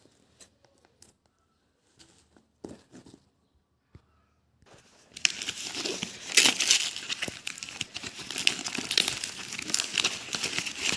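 Plastic and paper packaging of a Boya M1 lavalier microphone, opened with a few quiet taps and rustles, then loud, sustained crinkling and tearing up close.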